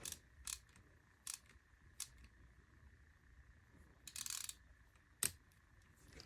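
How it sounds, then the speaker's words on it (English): A ratchet screwdriver drives a screw during laptop repair: quiet, sparse clicks and short ratcheting bursts spaced irregularly over a few seconds, close to the microphone, with no speech. "I was actually screwing in that screw using the ratchet"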